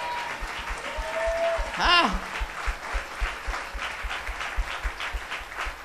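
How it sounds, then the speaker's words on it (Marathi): Church congregation clapping during a Marathi sermon, a rhythmic burst of many hands beating a steady tempo, with a brief spoken exclamation and a sung rising note partway through. "जरा जोरात वाजवा टाळ्या"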